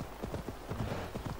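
A horse's hooves clip-clop in a quick, uneven rhythm in Assassin's Creed Valhalla, set in Ireland, close and moderately loud with nothing else over them.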